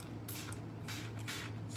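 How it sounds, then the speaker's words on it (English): Water sprayed from a spray bottle onto a coffee filter, four short hissing bursts in quick succession, close and fairly quiet with no talk. "spray, spray, spray."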